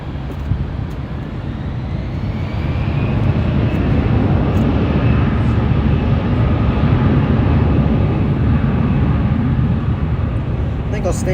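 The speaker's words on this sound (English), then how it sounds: "Have an Alaska A321neo up here. It's going to be heading out to Seattle," An Alaska Airlines Airbus A321neo departs LAX for Seattle, a steady, loud jet engine roar that rises in the first seconds and holds throughout.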